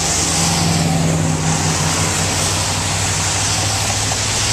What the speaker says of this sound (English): I'm driving up 12th Street in my old piece of fucking shit truck.